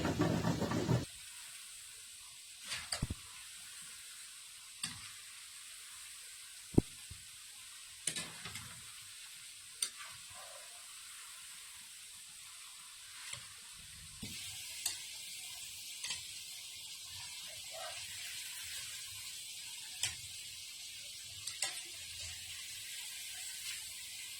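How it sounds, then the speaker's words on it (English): Quiet, steady sizzling of Cameroonian chin chin dough frying in hot oil, with occasional clinks and knocks of a frying spoon against the pan. "So you fry your chin chin until you have this golden brown"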